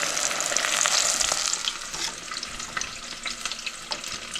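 Beer-battered walleye fillets fry in a pan with a steady, close hiss of bubbling oil and soft crackles, alone without voices.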